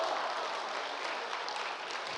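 An audience gives steady, dense applause at a Korean church talk, a continuous patter of clapping with no voices over it.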